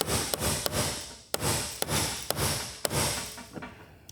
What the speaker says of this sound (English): I just usually grab a punch, put it right here on the edge of the ring,